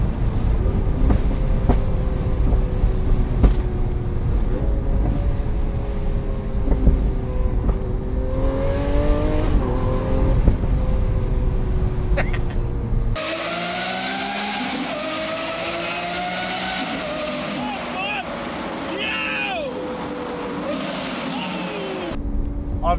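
Lamborghini Aventador engine revving loud and close with rising harmonic sweeps, a sharp shift change midway followed by higher-pitched, raspier acceleration and rapid gear changes.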